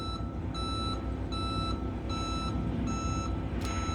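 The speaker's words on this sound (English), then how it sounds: "Somebody backing up over here and making a lot of noise." A backing vehicle, likely a truck, sounds its reversing alarm: evenly spaced, bright electronic beeps repeating about once a second over a low engine rumble, with no speech.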